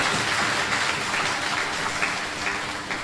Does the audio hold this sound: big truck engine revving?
no